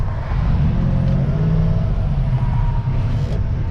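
A truck in the USA drives along with its window open, a steady, loud low engine rumble and road roar with faint higher whines, continuous throughout and with no talk.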